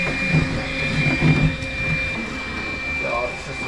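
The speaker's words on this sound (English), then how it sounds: "how to get the vacuum cleaner and start vacuuming up" A vacuum cleaner runs during cleanup of a wet boat floor, a steady droning whine throughout with people talking over it.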